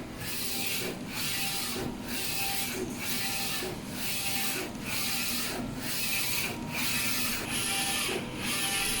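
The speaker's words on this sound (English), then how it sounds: "the procedure to do the calibration for the brand new the Focus Nebula Forge 2F DTF printer" A Focus Nebula Forge 2F DTF printer prints steadily, a loud, continuous mechanical whir broken by regular brief dips about once per second as the carriage sweeps back and forth.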